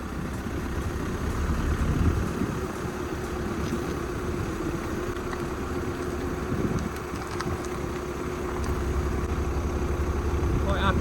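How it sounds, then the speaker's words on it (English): A Skoda car with a broken hub and no right-side steering idles and creeps forward, its engine a steady low rumble under wind noise, moderately close and continuous throughout. "we're going to attempt to drive this into that unit there with a broken hub and no steering on the right hand side"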